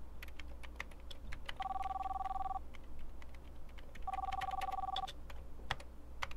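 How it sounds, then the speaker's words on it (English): An electronic phone ring sounds in two separate bursts, each about a second long, with soft keyboard typing clicking in the background. "I think your phone is ringing."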